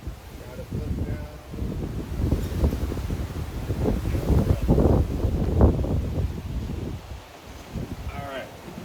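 Gusty outdoor wind buffets the microphone in a low, uneven roar that swells and fades over several seconds, with some rustling mixed in.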